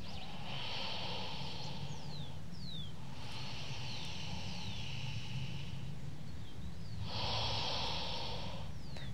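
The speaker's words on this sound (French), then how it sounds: "Expire. Encore 2 respirations." Deep, audible breathing during a power yoga session: three long, airy breath cycles, close and fairly soft, each one a hissing rush of air.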